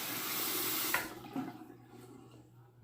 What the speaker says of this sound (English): As soon as I rinse my hands off again here